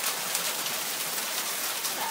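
Hail falling in Poway, a steady dense patter of small icy pellets striking surfaces nearby, continuous and even throughout with no talking.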